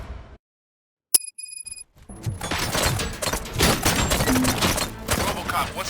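Gunfire in the video game RoboCop: Rogue City. A short near-silence with a metallic ping and a faint tone gives way to sustained rapid bursts of shots, loud and dense, continuing without a break.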